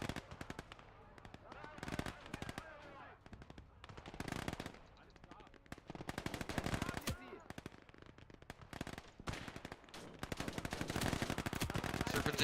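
Heavy machine-gun bursts and sharp gunshots crackle in a World War II battle in the video game Gates of Hell: Ostfront, with enemy artillery firing, dense rapid volleys continuing throughout at varying distances.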